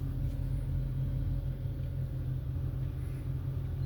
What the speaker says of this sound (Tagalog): Hanggang dito lang guys ang ating pagpapainit ng Ford E150 Triton